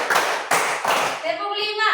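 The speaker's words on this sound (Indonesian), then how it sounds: "Tepuk fokus ya. Tepuk 1, tepuk 2, tepuk 3, tepuk 4" Schoolchildren in a classroom do a rhythmic focus clap, three sharp, evenly spaced claps followed by voices chanting together.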